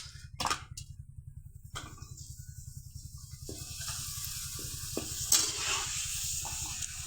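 Papad frying in very hot oil, a steady close sizzle and crackle with a low bubbling hum beneath, plus a few sharp clinks of tongs against the pan, growing a little louder toward the end.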